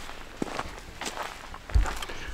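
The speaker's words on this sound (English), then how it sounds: "Go for a walk down to the wash." Footsteps of someone walking around an overnight campsite, a few soft scuffing steps on dry ground with one heavier thud near the end, close to the recorder and alone over faint outdoor background.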